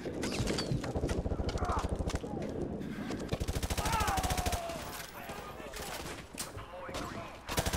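Sustained automatic gunfire in Modern Warfare 2 Remastered, rapid repeated shots close and loud for several seconds, then fading into a busier mix of game noise.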